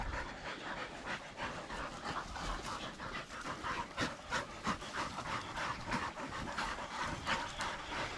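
A dog pants rapidly and steadily at close range during a pig hunt with pups, with rhythmic breathy puffs continuing throughout and no talking.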